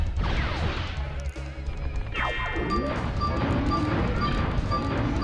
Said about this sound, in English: Sounds like fireworks.